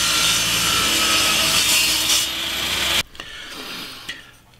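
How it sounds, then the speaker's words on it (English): A table saw cuts through wood stock for a drill press vice base, a loud, steady rasping whine for about three seconds that drops off abruptly as the blade clears, followed by lighter rattles as it winds down. "I'm just going to cut this section out on the table saw."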